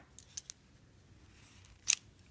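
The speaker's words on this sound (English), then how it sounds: "then go ahead and trim your yarn" Scissors snipping yarn during loom knitting, a few quick quiet snips close up followed by one louder, sharper cut near the end.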